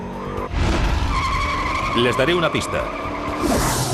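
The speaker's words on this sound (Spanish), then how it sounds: "Algo que les encanta hacer a los fanáticos de los muscle cars es dejar en el asfalto un poco de goma de neumático" A muscle car's tires squeal and skid as it burns rubber on asphalt, loud and close, with wavering screeches over a roaring engine while someone speaks.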